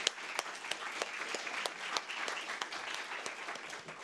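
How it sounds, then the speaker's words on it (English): Steady audience applause fills a seminar hall after the speakers finish, a dense even patter of many hands with sharp individual claps standing out, moderately distant and without talk. "please join me in giving applause once more to our speakers"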